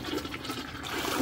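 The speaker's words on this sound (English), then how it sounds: "we're finally going to go ahead and give it a flush" A toilet flushes away old pet food, a continuous rushing gush of water heard close and fairly loud for the whole short span.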